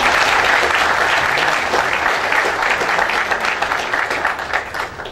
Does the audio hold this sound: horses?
no